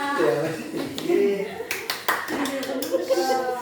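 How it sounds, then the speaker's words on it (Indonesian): Students in a classroom clap their hands together in a short burst of applause, several sharp close claps following children's voices and chatter. "tepuk tangan untuk kita semua."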